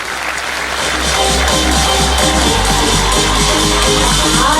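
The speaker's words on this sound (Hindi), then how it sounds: "उनके तो एक जोर से ताली होनी चाहिए थी" A crowd of parents and guests at a school annual day claps loudly and continuously, a dense, sustained round of applause filling the whole stretch with no break.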